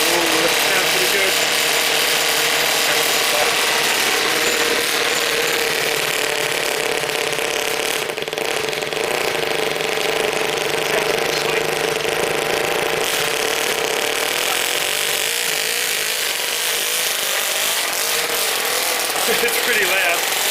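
A 2-cylinder 4-stroke engine fitted in an RC car with a custom exhaust runs loud and steady close by, a continuous mechanical chatter and buzz that holds through the whole stretch.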